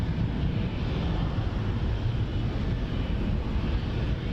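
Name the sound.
Air France Boeing 777-200 airliner at Montréal airport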